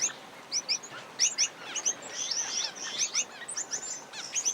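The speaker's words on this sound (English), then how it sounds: "Brightly coloured grass finches come in to drink every few hours." Grass finches gather at a billabong in Central Australia, giving a rapid flurry of bright, high chirps and tweets that overlap in quick bursts close by.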